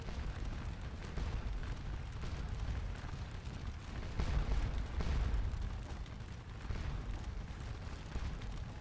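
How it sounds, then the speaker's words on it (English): Artillery fire in the video game Scourge of War: Waterloo forms a steady, dense wash of distant rumbling booms that rises and falls slightly and never lets up. "The enemy cavalry is pulling back now under fire of our artillery"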